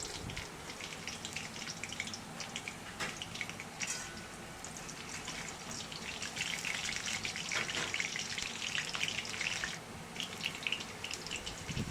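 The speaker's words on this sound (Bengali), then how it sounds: "ফোড়নে দিয়ে দিচ্ছি কালো জিরে আর কাঁচা লঙ্কা" Nigella seeds and green chilies hitting hot oil as a tempering for a Bengali chichinga and hilsa-head curry, a continuous crackling sizzle with sharp spits that swells louder midway, no voices.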